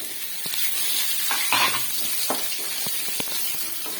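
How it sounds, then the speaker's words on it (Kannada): Curry leaves and crushed garlic sizzle in hot oil for garlic rice, a close, steady crackling hiss punctuated by sharp pops and stirring clicks. "ನಾನಿಲ್ಲಿ ಕರ್ಬೇವು ಹಾಕೋತಾ ಇದ್ದೀನಿ ಹಾಗೆ ಜಜ್ಜಿರ ಬೆಳ್ಳುಳ್ಳಿ ಹಾಕೋತಾ ಇದ್ದೀನಿ"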